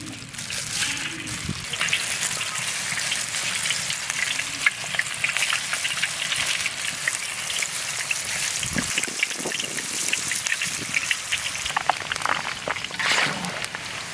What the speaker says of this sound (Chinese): 上锅炸，油温5成热，开始炸